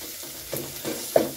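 Onions for a chicken stew frying in a pot make a low sizzle, marked by a few soft stirring knocks and a sharper clink near the end.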